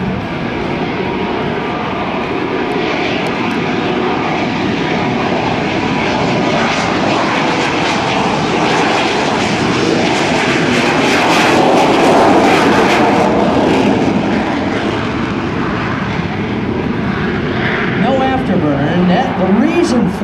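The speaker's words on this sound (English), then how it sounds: "on the sound from the jet engine, it will sound very, very muted" An F-117 Nighthawk stealth jet passes at an airshow at MCAS Miramar with a broad, continuous roar that swells toward the middle and slowly fades, sounding fairly subdued rather than piercing.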